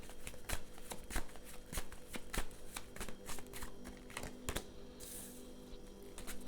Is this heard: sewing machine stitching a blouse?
no